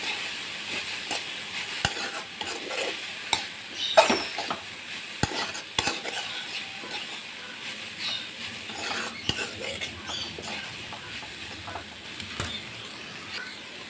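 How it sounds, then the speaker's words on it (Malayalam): Cooked green spinach and boiled jackfruit seeds are stirred in a hot pan, with a soft continuous sizzle and scattered scraping clinks of the spoon against the pan. "ചക്കക്കുരു അങ്ങോട്ട് ഇട്ട് കൊടുക്കാം എന്നിട്ട് നമുക്ക് എല്ലാം മിക്സാക്കി കൊടുക്കാം"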